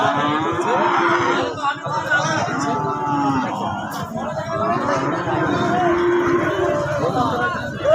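Cattle lowing and mooing repeatedly at a livestock market amid a busy crowd, with people chattering in the background throughout.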